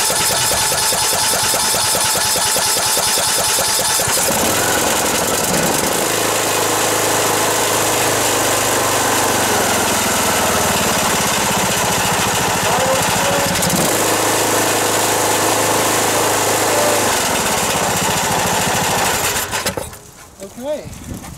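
A Briggs & Stratton INTEK single-cylinder small engine runs on an inexpensive aftermarket carburetor with the choke on and no air filter, a loud, close, steady buzzing drone that shifts tone a few times before dropping off at the end.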